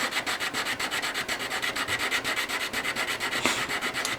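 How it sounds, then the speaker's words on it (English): A part of a Springfield Prodigy pistol is rubbed against an abrasive surface with gun oil, giving close, rhythmic back-and-forth scraping strokes at a steady pace with no talk. "Just polishing up the surface."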